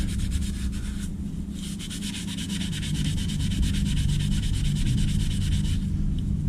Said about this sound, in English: We're just gonna scrub this up nicely. Just get kind of like the surface rust off it.